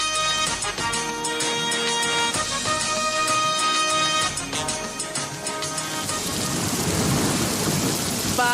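A heavy thunderstorm with steady rain pouring on surfaces and deep rolling thunder, loud and continuous, the downpour swelling into a dense roar toward the end.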